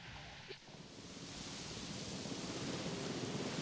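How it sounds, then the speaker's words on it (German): A storm of rain and rumbling thunder builds in the Jurassic World Evolution video game, a broad, rushing noise that swells steadily louder, with a quiet voice speaking faintly at the start. "diesmal kommt ein richtiger Sturm, glaube ich."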